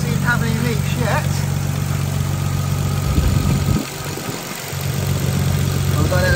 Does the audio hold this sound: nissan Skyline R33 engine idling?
yes